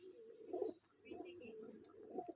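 Soft, low cooing from pigeons nearby, several rolling coos in succession with brief pauses between them, quiet and unhurried.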